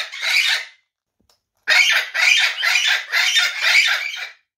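A parrot lets out a harsh squawk, then after a short silence a run of five rapid, loud squawks in steady rhythm, close by and alone.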